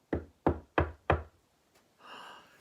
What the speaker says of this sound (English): But there soon was another knock on the door.